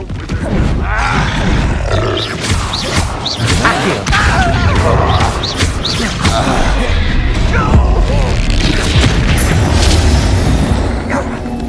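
Spell explosions cast as Confringo and Capulso in the Hogwarts Legacy game: loud, continuous booms and roaring blasts with grunts, dense and unbroken throughout.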